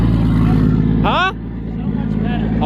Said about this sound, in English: it's so loud now. It's so much louder.